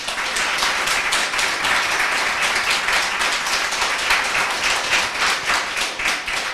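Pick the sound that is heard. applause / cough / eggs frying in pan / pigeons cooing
applause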